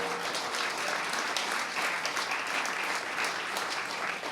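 A lecture audience at a religious discourse claps in a steady, dense wash of applause that holds evenly for the whole stretch, with no voices rising above it.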